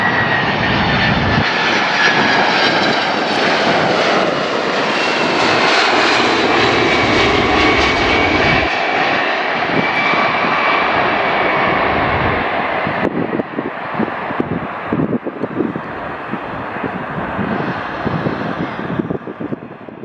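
A plane's aircraft engine roars loud and close during takeoff, with a broad rising whine that holds steady. About two-thirds of the way in, the roar turns rougher and more buffeted with wind noise.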